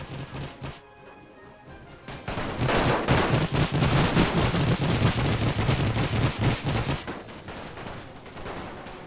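Sustained battlefield gunfire in the World War I strategy game The Great War, with German Empire forces: a sparse opening, then dense, continuous volleys of rifle and artillery fire that ease off toward the end.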